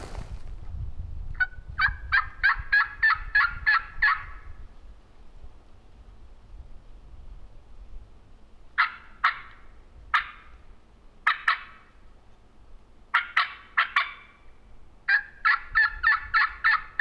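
A wild turkey on public land in Iowa gobbles repeatedly in loud, rattling bursts, several calls clustered together with quiet gaps between them, against a low outdoor background with no talking.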